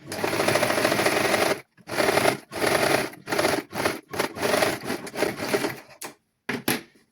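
Sewing machine stitching a boy's garment in a tailoring lesson, running in several bursts of rapid mechanical chatter separated by short pauses, close and fairly loud.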